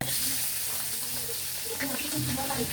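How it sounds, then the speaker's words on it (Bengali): Prawns fry in oil in a wok, making a steady, close sizzling hiss that runs throughout, with faint clinks and rustles mixed in. "চিংড়ি ভাজার সময় লাল লাল করে ভেজে নিয়েছি।"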